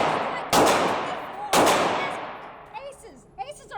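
Two loud gunshots ring out at a shooting range about a second apart, each one a sharp crack followed by a long, fading reverberation. A brief voice or whistle-like sound comes after them.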